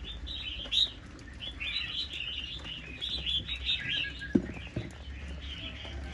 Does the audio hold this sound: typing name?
no